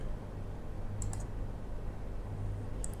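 A computer mouse clicking the Next button in a software installation wizard, two quick pairs of faint crisp clicks over a low steady hum, no voices.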